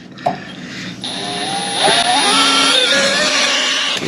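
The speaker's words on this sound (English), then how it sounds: "Ryan's going to drill a pilot hole." A battery power drill bores a pilot hole through an Artec skid plate on a diesel Jeep Gladiator JT, its motor whine rising in pitch and then holding a steady, loud grinding drone for several seconds.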